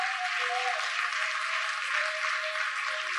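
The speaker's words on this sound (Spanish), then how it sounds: "Den un aplauso al Dios Todopoderoso." Steady applause from a church congregation during a Spanish-language sermon on family, a dense even wash of clapping heard from some distance with a faint tonal hum running underneath.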